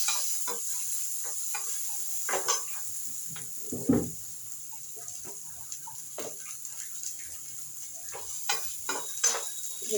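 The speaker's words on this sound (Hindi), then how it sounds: "तेज आंच कर दिया है, प्याज पक जाए जिससे।" Onions frying in a pan over high flame for a pumpkin and chana dal dish, with a soft steady sizzle broken by scattered clinks and stirring scrapes, close and moderately quiet.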